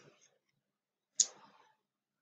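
A single sharp mouse click on a quiz resume-attempt button, close and crisp, with a short rustle trailing off after it in an otherwise quiet stretch.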